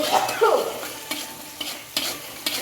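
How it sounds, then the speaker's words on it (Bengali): Potato curry being stirred and fried with chili powder and sugar in a pan, a soft scraping sizzle with a few sharp spoon knocks against the pan, close and steady, no talking. "একটু লঙ্কা গুঁড়ে দেবো একটু চিনি দিয়ে দেবো দিয়ে ভালো করে এটা কষিয়ে নেবো"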